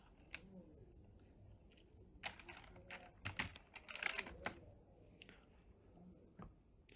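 Someone types a website address on a computer keyboard in irregular bursts of close, light key clicks, with quiet gaps between them.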